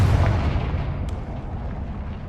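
A Confringo spell explodes in Hogwarts Legacy with a loud, close blast that starts at full force and rolls off into a decaying rumble over a couple of seconds, with no talking.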